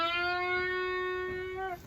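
A single guitar string sustains with rich, clean harmonics and is held nearly steady before the pitch drops near the end as the full bend is released, heard alone at moderate volume with no voices.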